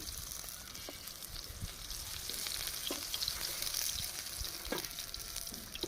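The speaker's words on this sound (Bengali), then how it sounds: "বাকি মাছটাও আমি ভেজে নিলাম" Pieces of catla fish fry in hot oil with a steady, dense sizzle and crackle, with occasional louder pops and stirring sounds throughout.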